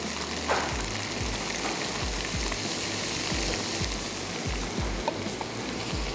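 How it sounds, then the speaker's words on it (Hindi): Kheer stirred into hot caramel in a pan gives a steady, loud sizzle with soft rhythmic scraping of the spoon pulsing through it, continuous and close throughout, with no talking. "तो अब मैं इसमें क्या करूँगी कि हम इस कैरेमल में ऐड कर देंगे खीर,"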